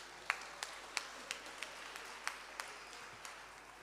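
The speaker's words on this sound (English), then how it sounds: "Give a hand of applause, please." A few people at a Workers Day community meeting clap sparsely, distinct separate claps spaced apart, faint and distant against room noise rather than a full round of applause.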